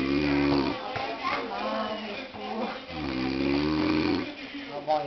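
A man snores loudly through the mouth in long rasping, rumbling breaths, close by, with faint voices in the background.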